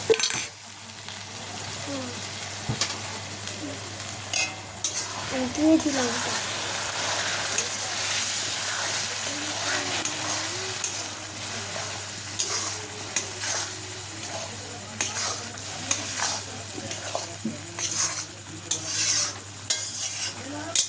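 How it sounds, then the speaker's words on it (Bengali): Spiced duck meat stirred and fried in a pan: constant sizzling with frequent scraping and clinking of a spatula against metal, close up, with a low steady hum underneath. "আর একটু নেড়ে চেড়ে ভেজে নেবে"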